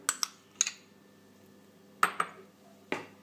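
A metal utensil clinks sharply against a bowl while mustard, mayonnaise and honey are added for a honey mustard sauce, in two close pairs of taps and a final single tap, with quiet pauses between.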